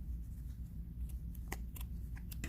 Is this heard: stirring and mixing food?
no